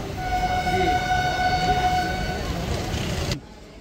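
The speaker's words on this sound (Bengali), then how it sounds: "এই আমাদের আন্দুল স্টেশন ঢুকছে" The Kolkata–Digha special train pulls into Andul station, sounding a long sustained horn tone over rumbling carriages, loud and close before cutting off abruptly near the end.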